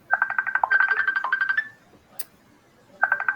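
Phone ringtone sounding from a call being placed, a repeating electronic trill that plays in bursts, pauses, then starts again.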